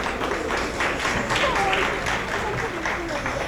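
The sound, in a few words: audience applause at a seminar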